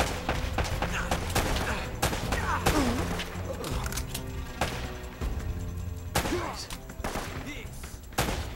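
Bursts of gunfire in the video game Uncharted: Drake's Fortune: repeated sharp shots and volleys over a steady hum of game ambience, with short spoken lines in between.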